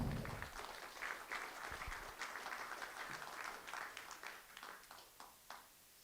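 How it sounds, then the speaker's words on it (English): Faint applause from a conference audience at a Michigan conservation talk, a soft steady patter of many hands lasting about six seconds and tapering toward the end. "round of applause"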